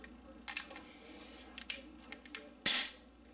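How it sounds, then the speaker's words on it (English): A crossbow trigger is pulled with no anti-dry-fire clip fitted, releasing the string in one sharp, loud snap near the end after a few small clicks and handling taps. "Pull trigger to disengage the string."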